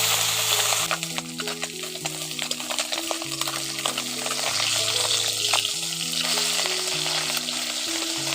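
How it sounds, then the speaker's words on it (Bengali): Small fish stirred and fried in a pan, a loud, busy sizzle with scraping stirs throughout, heard over a background melody. "এগুলোকে নাড়াচাড়া করে ভেজে নেব"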